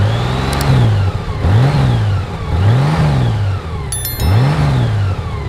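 A Honda Goldwing 1800cc DCT motorcycle engine revs repeatedly, rising and falling in pitch in steady cycles, loud and close with no talking.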